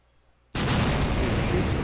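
A ship's front cannons firing in a sailing simulator game, one sudden loud blast after a brief quiet start, then a sustained roaring burst.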